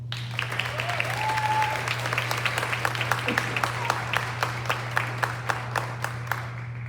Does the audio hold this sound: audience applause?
yes